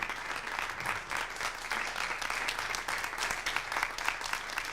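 Audience applauding dance performers at a televised show, steady dense clapping from a crowd throughout.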